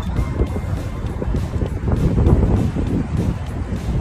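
Gusty wind buffets the microphone in low, rumbling bursts, swelling and easing over a few seconds.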